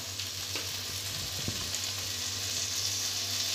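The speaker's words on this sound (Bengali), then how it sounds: "এবার আমরা একটু হিং দিয়ে দেব।" Steady hot-oil sizzle from a pan of softened tomatoes as a pinch of asafoetida goes in, with a couple of faint clicks near the start and middle over the constant frying hiss.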